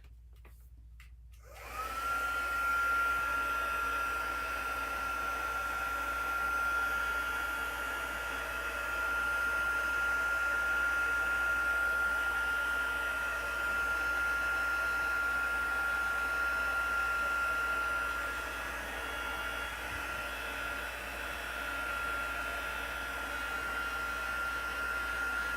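Hair dryer running steadily at close range to dry an instant coffee craft piece, a continuous airy whoosh with a thin whining tone that switches on after a short pause and holds for the rest of the clip.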